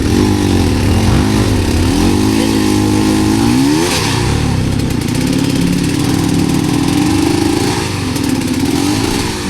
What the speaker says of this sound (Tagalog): KTM 300 power kayo.